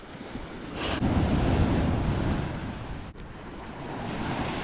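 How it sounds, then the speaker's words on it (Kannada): Ocean waves surge and break nearby at Marari Beach, Alleppey, Kerala, a broad whooshing roar that builds early, rolls on steadily, then eases slightly before rising again. "ಓ ದೊಡ್ಡ ಅಲೆ"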